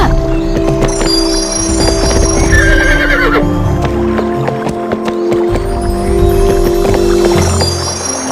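In Barbie Horse Adventures on PlayStation 2, a horse gallops with brisk, close clip-clop hoofbeats and lets out a clear whinny, all set against bright game music.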